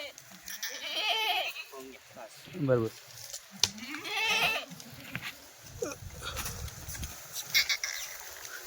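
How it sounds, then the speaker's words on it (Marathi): Goats bleat repeatedly at a busy livestock market, several calls rising clearly at close range among crowd noise, with someone talking over and between them. "मस्त जवानीच्या शेळ्या सगळ्या."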